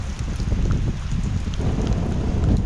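Strong outdoor wind gusting at a forge site, a steady loud low rumble of wind buffeting the microphone throughout.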